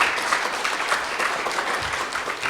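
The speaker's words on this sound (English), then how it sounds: "Please, a round of applause for all of the McPherson people." A symposium audience on motorsports history applauds steadily and fairly loudly, a dense wash of many hands clapping at once for the whole stretch, with no talk over it.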